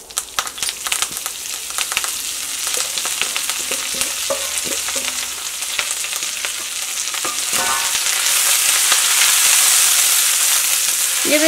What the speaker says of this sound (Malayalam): പിന്നെ അടുത്തത് ഈ ഓയിലിലേക്ക് തന്നെ നമ്മുടെ മുരിങ്ങയില ചേർക്കാട്ടെ.